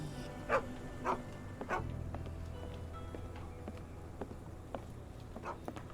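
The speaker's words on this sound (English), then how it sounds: "Puppy." A puppy in a video game gives three short, yappy barks in quick succession, then one fainter yip later over a low steady hum.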